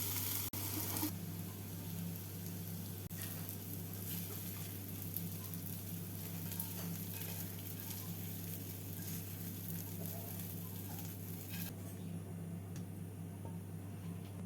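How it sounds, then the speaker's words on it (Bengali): Onion, garlic and dried chilli fry in a pan with a faint, steady sizzle over a constant low hum, with no talking. "পেঁয়াজ রসুন আর শুকনো লঙ্কাটা ভাজা হয়ে গেছে"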